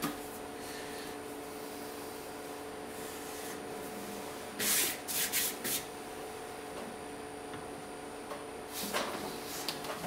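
A strap trim tool shaves a 5 lb clay jar on a spinning potter's wheel, giving a steady rubbing, scraping hiss under a constant motor hum, with a few louder scraping bursts midway and near the end.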